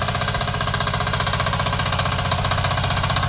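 A new tractor-type power tiller engine runs during sowing in a Konkan village field, a continuous rough, knocking drone held at a steady level throughout, with no talk.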